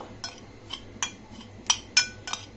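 A spoon clinks lightly against a bowl while fried semolina is stirred together with other ingredients, giving about half a dozen quiet, scattered taps over a soft background hum.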